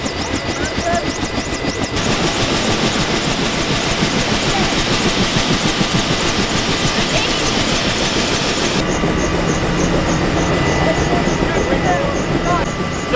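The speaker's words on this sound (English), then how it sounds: "So we're going up in the Huey right now." A Huey helicopter engine and rotor roar loud and close as a steady, unbroken drone from start to finish.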